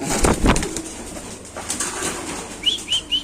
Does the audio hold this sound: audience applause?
no